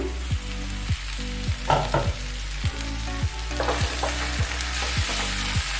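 Beans and potatoes frying for aloo sabji sizzle steadily in an opened pan, joined by a regular pulsing mechanical thump that repeats every half second or so, with occasional scrapes of stirring.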